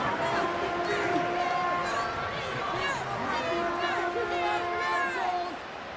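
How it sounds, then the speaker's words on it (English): Video game crowd at Arrowhead Stadium during an NFL Bears versus Chiefs matchup, a steady, loud roar of spectator noise with babble throughout, easing slightly at the end. "The crowd at Arrowhead roaring."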